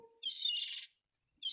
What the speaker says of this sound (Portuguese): Grita de gaivota normal.